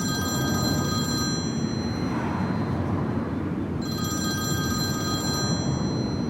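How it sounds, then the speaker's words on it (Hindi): A telephone rings in a home scene in a Turkish drama, a steady electronic ringing in two bursts with a short pause between them, clear and fairly close with no talk over it. "खाला का फोन आ रहा है अम्मी"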